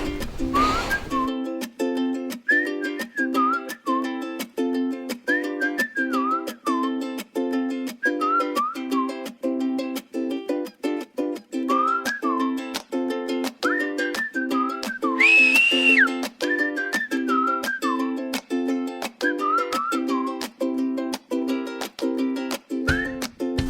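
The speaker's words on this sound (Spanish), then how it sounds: "Voy a empezar a silbar, a ver." A person whistles a lively melody for over twenty seconds, clear and close, with short repeated phrases and a brief sharper whistle midway.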